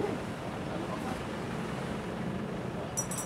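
Seaside beach waves, a steady soft wash of surf mixed with wind noise, fairly faint and continuous with no clear individual breaks.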